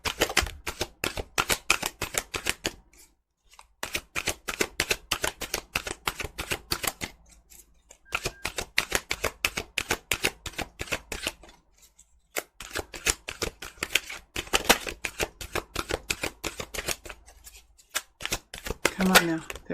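Tarot cards being shuffled in rapid bursts of crisp riffling clicks, several long runs separated by short pauses, close and fairly quiet, with a bit of soft talk between the bursts.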